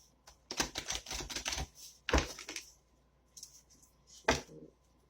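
Large tarot deck being shuffled, with brisk bursts of riffling card clicks and slaps in short clusters, close and fairly loud, separated by brief pauses.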